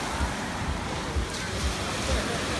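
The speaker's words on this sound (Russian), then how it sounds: "Волны сильные, не пускают всех сразу" Strong sea waves surging and breaking on a shore during stormy, windy weather, a steady roar of surf with wind buffeting the microphone, continuous and fairly close.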